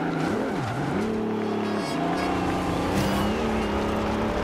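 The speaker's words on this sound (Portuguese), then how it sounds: "Eu tô reduzindo muito esse carro e ele não precisa dessas reduzidas violentas que eu tô dando" A car engine in Forza Horizon 2 revs and drops through gears as it downshifts hard, with pitch swooping down and back up several times at close range and the revving loud throughout.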